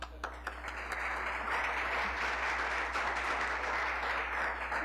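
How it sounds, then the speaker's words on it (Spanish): A city council session in Cúcuta gives applause in honour of a neurosurgeon. The clapping is faint and washy, held steady over a low hum, with a warbling electronic tone drifting overhead. "le doy un gran aplauso"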